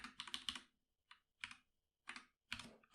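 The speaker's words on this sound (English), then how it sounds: "I have a new keyboard, so I'm going to mistype a bit more frequently than usual" Close keystrokes on a new keyboard during a coding session, rapid clusters of clicky presses separated by short pauses, with no voices.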